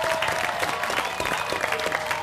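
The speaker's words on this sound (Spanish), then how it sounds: "otro aplauso para el viernes, vamos" A television studio audience on a talk show gives a round of applause. The clapping is dense and continuous for a couple of seconds, close and lively, with a few crowd voices mixed in.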